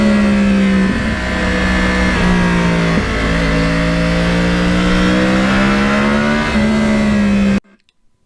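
Loud, close engine note of a Yamaha R1 crossplane sport motorcycle while riding, a steady droning roar with slight pitch shifts as the throttle changes, cutting off abruptly near the end.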